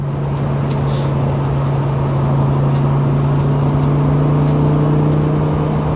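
Cabin sound of a 2009 Lamborghini Gallardo LP560-4 with a twin turbo conversion cruising in fourth gear around 3,500 rpm: a steady, loud engine drone with a constant tonal hum holding throughout, no talk.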